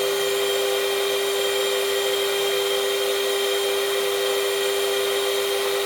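A Genmitsu ProverXL desktop CNC's VFD spindle spins at 24,000 RPM, a loud, steady high-pitched whine with a constant tone that holds unchanged for the whole stretch.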